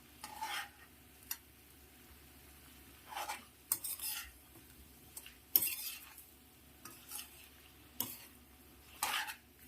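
Ivy gourd fry is stirred in a pan on the stove, with a faint sizzle underneath and a spoon scraping the pan in occasional short bursts, close by and without talking.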